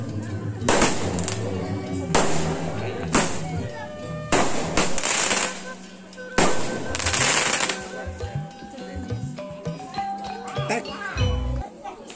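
Strings of firecrackers crackle and bang in rapid bursts at a wedding reception in a narrow alley in Garut, Indonesia, loud and close, with a few pauses and background voices.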